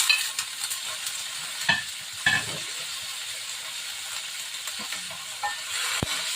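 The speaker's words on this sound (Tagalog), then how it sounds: "So, lagay na natin yung kamatis." Tomatoes added to golden-browned ginger and garlic in a pan, sautéing with a steady soft sizzle and a few scattered clinks and stirring scrapes of a utensil, close by with no talk.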